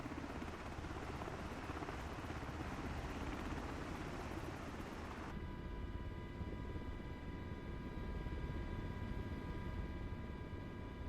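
MH-60 Blackhawk helicopter in Microsoft Flight Simulator 2024, a steady dense rotor and turbine roar that goes on without a break, with a sharp change partway through where the high hiss drops away and a tonal engine whine remains.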